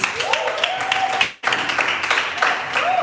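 Audience applause at a business hangout event, dense sustained clapping from a crowd with a brief drop in the middle before resuming, with faint voices underneath.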